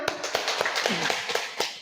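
Classroom clapping for a student group's presentation, heard as a run of roughly eight sharp, evenly spaced claps over two seconds, fairly close, with faint voices murmuring underneath.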